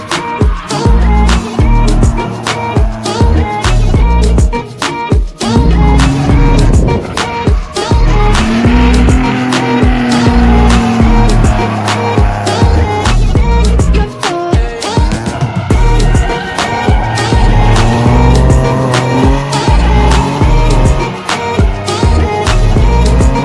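A drift car slides through a practice session with loud, continuous engine roar, rising and falling revs, and sustained tire squeal layered throughout, close and dense with no clear pauses.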